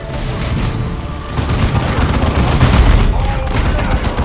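Dense battlefield gunfire in Dawn of War 2: Chaos Rising, a continuous loud wash of overlapping shots, booms and rumbling that swells partway through and stays heavy to the end.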